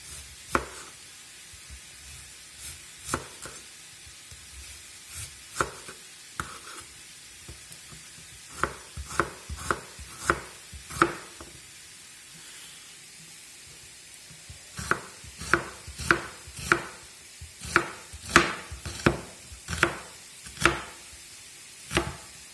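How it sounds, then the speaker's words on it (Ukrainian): Onion being finely chopped with a knife on a board for a potato-and-mushroom supper, a series of sharp, close knife taps in irregular bursts with pauses, heard over a faint steady sizzle of mushrooms frying nearby. "Тим часом я поріжу собі цибульку, цибульку надрібно."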